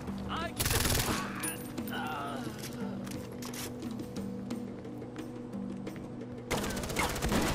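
Gunfire comes in sharp bursts during a Far Cry 4 gameplay session, repeating throughout against background game sounds. A player talks over it in places.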